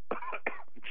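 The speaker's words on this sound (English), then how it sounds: "Sorry, I had a cough there." A man coughs twice in quick succession on a radio news broadcast, close and harsh, followed by a brief throat clearing.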